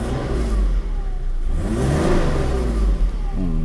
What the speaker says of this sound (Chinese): 这个129的这原厂排气管其实声音，这大哥觉得是蛮好听的